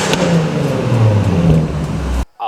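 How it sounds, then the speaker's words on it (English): Audi S4 B8.5 fitted with a MagnaFlow exhaust, a loud, close, steady engine drone rising and falling as it revs for about two seconds, then cutting off abruptly. "So this is my exhaust."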